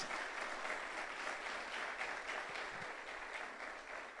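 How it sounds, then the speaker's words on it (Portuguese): A church congregation claps together in sustained, steady applause that fills the room, loud and continuous throughout with no talking over it. "Dá um aplauso à irmã aí."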